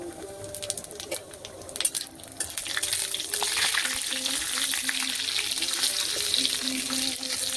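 A dried red chilli and panch phoron sizzle and crackle in hot oil in a pan, at first with scattered pops and stirring clatter, then a steady, loud frying hiss that carries on.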